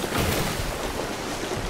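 Ocean waves wash around a ship in the Sea of Thieves video game, a dense, continuous rush of surf and spray with no clear breaks, loud and enveloping.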